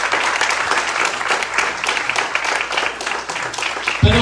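A church congregation applauds with dense, sustained clapping that fills the room, loud and continuous from start to finish.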